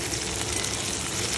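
Food frying in oil, letting its oil out as it cooks, gives a steady, dense crackling sizzle up close with no pauses across the short stretch.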